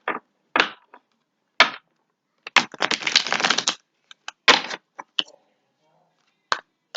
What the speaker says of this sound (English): I'm going to shuffle the cards here.